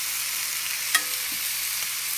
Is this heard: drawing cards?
no